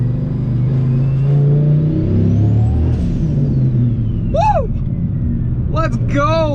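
Turbocharged Viper with a fender-dump exhaust accelerating hard, a loud continuous engine and exhaust roar rising with boost, with a whistle sweeping up and then back down, and excited voices calling out near the end.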